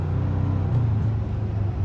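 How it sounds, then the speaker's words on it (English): A 2-litre Ford Raptor pickup with a dyno-tuned engine accelerates from a rolling start, heard as a steady low engine rumble from inside the cabin under the throttle. "I just wanted to basically accelerate from a rolling start"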